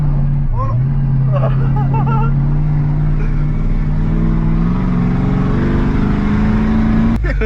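A truck engine in a video game drones steadily with a low rumble, rising slightly in pitch, while excited voices chatter over it.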